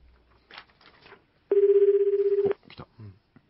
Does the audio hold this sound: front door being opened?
no